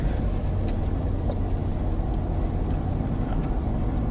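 Ford F250 Super Duty Tremor pickup pulling a camper up a steep mountain grade, its engine a steady, heavy drone with cabin rumble throughout, no voices over it.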